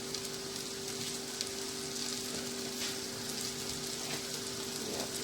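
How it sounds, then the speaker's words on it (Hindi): Sliced onions dropped into a hot pan of oil while frying okra for a bhindi masala, giving a steady, close sizzle and crackle that holds evenly throughout, with no talk. "इस वाले पैन के अंदर मैं प्याज ऐड कर रही हूँ"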